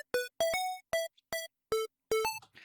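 Synth lead of square and sine waves shaped by a volume envelope, six crisp bright notes in a quick uneven rhythm, loud and clean with nothing else behind them.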